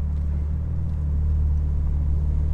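BMW M4 Competition idling and creeping backward under its automatic parking assistant, a steady low engine rumble with a faint hum, close and constant.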